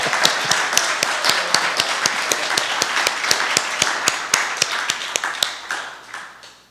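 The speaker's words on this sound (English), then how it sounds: "Round of applause for that, I think." Applause at a British Empire Medal investiture ceremony, a steady run of crisp, distinct claps from a small group, fairly close and even in rhythm, tapering off at the end.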